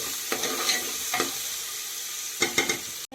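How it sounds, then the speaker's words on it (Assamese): Onions frying in oil with bay leaf, cloves, cardamom and cinnamon for egg biryani, a steady low sizzle with a few scraping stirs of a spoon in the pan and no voices. "লং, ইলাচি, দালচেনি, অকণমান ৰঙচুৱা হ'ব দিছোঁ পিঁয়াজখিনি।"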